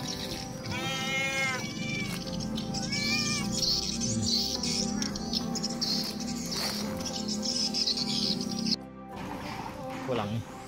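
A cat meows a couple of times, rising and falling, over a steady background hum with people talking nearby.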